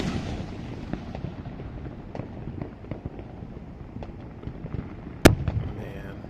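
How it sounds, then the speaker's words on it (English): Fourth of July fireworks burst close by during a city-wide show, a series of deep booms and crackles with one sharp, very loud bang near the end, all heard from inside a car. "all the fireworks behind me are so big, things are literally hitting me in my car from the explosions"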